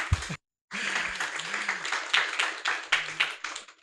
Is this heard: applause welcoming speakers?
yes